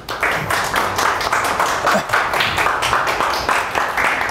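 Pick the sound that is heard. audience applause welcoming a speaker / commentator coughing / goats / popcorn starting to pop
audience applause welcoming a speaker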